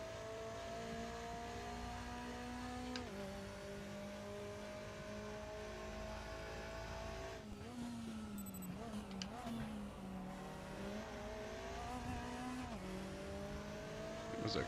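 A McLaren DTM race car in a Raceroom sim racing session, engine droning steadily at high revs with sharp drops on gear changes and brief tire squeal, loud and continuous throughout.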